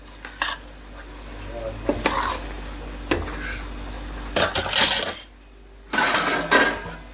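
Metal pot lid and utensils clanking on a kitchen stove while making mango pickle, a few close, sharp clinks and scrapes separated by quiet pauses.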